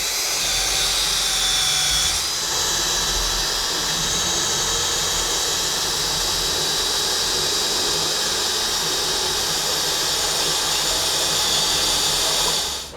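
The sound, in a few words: combi drill with decal removal wheel lifting stickers off van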